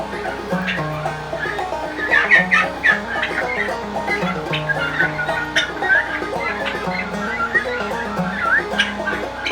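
Turkeys gobble and chirp close by in a farm rabbitry amid the steady hum of a gas generator, their calls popping up irregularly throughout.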